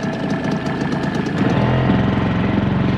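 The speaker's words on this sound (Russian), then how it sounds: "Сейчас мотор поработает." A fishing boat's outboard motor running cold, a close, loud knocking putter that swells midway into a steadier, heavier drone as the revs pick up.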